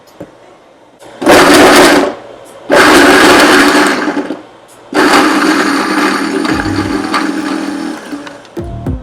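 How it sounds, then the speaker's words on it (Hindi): An electric kitchen blender chops cucumber in three loud bursts: two short whirring pulses, then a longer continuous grinding run, close and dominant, with quiet room noise between them. "इसको मैं ब्लेंडर में इसलिए डाल रही हूँ क्योंकि ये थोड़ा चॉप हो जाता है एंड जूसी हो जाता है"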